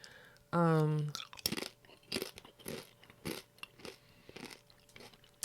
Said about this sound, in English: And they have a good crunch on them.